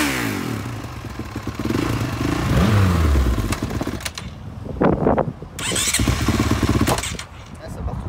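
A motorcycle with electric start only, no kickstarter, cranks and fires up close by, its starter whine giving way to a rough idle and short revs, with people talking over it.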